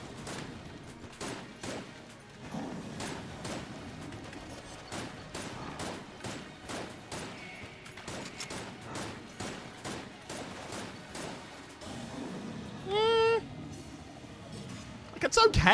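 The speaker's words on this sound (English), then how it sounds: "Try and use the shotgun full of hate here for a bit." Rapid gunfire from a shotgun in the game Enter the Gungeon, a long series of sharp repeated blasts in irregular bursts, with a brief electronic chirp near the end.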